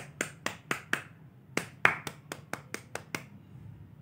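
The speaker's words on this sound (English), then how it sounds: "When we appreciate others, we appreciate them by clapping." Hands clap in a classroom lesson, about a dozen sharp, close single claps in an uneven rhythm with short pauses, no talking.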